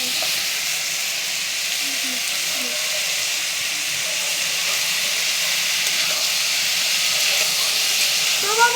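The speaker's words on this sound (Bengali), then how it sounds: "এবারে ডালটাকে দিয়েও আমি একটু কষাবো সব" Steady hiss and sizzle of chana dal frying with pumpkin, pointed gourd and potato in a pan, a continuous close sizzle with faint scraping and no talking.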